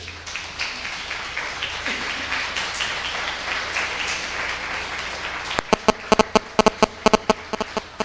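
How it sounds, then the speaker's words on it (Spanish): A church congregation applauds for the King, a dense spread of clapping that breaks into a few loud, sharp, separate claps near the end. "Démosle un aplauso al Rey."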